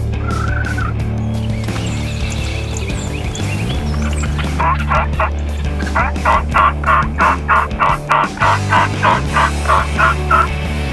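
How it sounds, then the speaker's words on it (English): Wild turkey gobblers in a Kansas field let out a run of loud, rapid gobbles in repeated bursts that build toward the end, over a low steady background hum. "we had multiple gobblers pitching down in the field about 250 yards from us"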